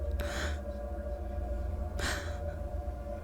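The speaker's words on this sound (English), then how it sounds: "Pink lay there, gasping." A fish character gasps for breath in an audio story, two breathy gasps spaced about two seconds apart over a steady low background hum.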